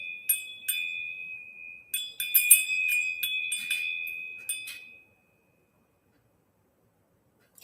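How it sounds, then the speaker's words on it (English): A small bell is rung during a live tarot reading session, giving a series of bright, ringing strikes over about five seconds, some struck in quick clusters, before the sound stops and silence follows. "I'm going to ring the bell a bit."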